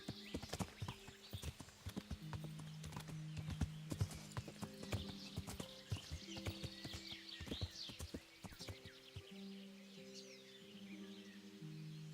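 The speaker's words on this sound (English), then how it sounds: "I am being led astray by this horse here." Steady clip-clopping horse hooves in Kingdom Come: Deliverance plod along with a musical backdrop of sustained tones, with occasional bird chirps above.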